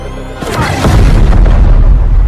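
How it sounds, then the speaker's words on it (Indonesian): A bomb hidden in a bag blows up in the Aquaman film, a sudden deep boom that swells into a loud, rumbling blast and keeps roaring as debris crashes close by. "tas itu rupanya berisi sebuah bom yang langsung meledak"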